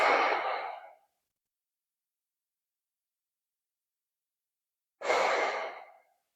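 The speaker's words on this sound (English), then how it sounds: "Take 3 breaths." Two slow, audible breaths during a yoga session: a long airy exhale fading out over about a second, then quiet, then another full breath starting around five seconds in, close and soft, with no talking.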